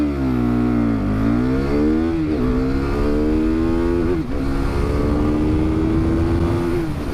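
A 2019 KTM RC 390 sports bike launching hard, its single-cylinder engine revving loud and close, pitch climbing through the gears with brief dips at each shift before holding a high steady wail.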